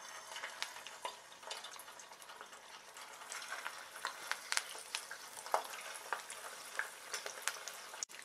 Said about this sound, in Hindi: तेल अब अच्छे से गर्म हो गया है तो अब हम अपने वड़े तेल में डाल के फ्राई करते हैं।